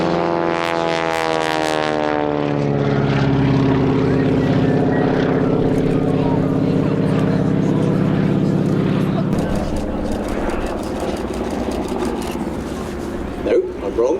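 A propeller-driven aerobatic plane with a wing walker out on the wing roars overhead at an airshow, its engine tone rising and sliding as it passes, while an announcer talks over it.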